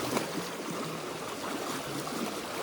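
A river runs as a steady, full rush of water, broadband and continuous throughout, close by and fairly loud with no voices.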